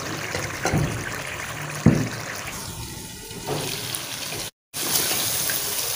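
Water poured from a glass into cooking mutton to make gravy, a brief splashy pour with soft liquid noise and a short gap near the end.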